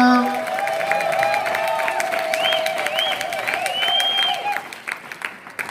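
A church congregation at a wedding blessing in Paris breaks into applause and cheering, dense clapping under sustained whoops, ululating trills and a held vocal tone, loud and close, fading at the end.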